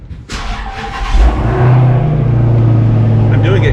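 A 2018 Dodge Charger Hellcat V8 cranks to life and settles into a loud, steady rumbling idle with a brief rev at the start, heard up close from inside the car.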